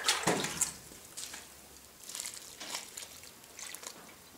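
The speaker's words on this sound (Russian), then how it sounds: "Проливаю теплой водой." Warm water is poured onto garden soil mulched with vermicompost around tomato plants, giving close, quiet splashes and trickles in short bursts with no talking.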